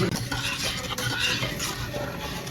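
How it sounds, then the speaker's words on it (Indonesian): A spoon stirs chocolate coffee pudding in a pot over medium heat, giving a steady scraping and swishing with faint bubbling, close and continuous. "Masak puding coklat menggunakan api sedang sambil terus diaduk-aduk seperti ini sampai betul-betul mendidih."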